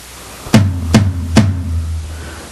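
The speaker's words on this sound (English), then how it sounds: "Watch what happens when I strike tom 2." Three evenly spaced strikes on tom 2 of a Pintech electronic drum kit, voiced through an Alesis DM5 module, each a loud, close, pitched drum hit with a short ringing decay.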